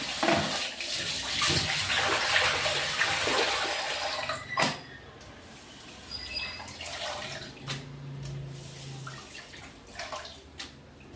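Anchovy fish being washed under running water, a continuous splashing gush from a tap filling and swishing in a vessel, close, with a few sharp knocks and drips as the flow eases.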